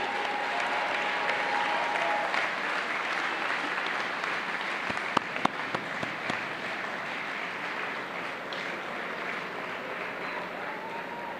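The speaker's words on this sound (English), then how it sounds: "please give them a great round of applause." Graduates at a high school commencement ceremony give a long, even round of applause, a steady wash of many hands clapping in a large hall, slightly distant, with a few louder claps standing out midway.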